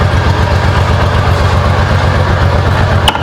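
A 1990 Honda Pacific Coast 800 motorcycle idles steadily nearby, its low, even engine throb loud and continuous with a slight rhythmic pulse, running alone without voices.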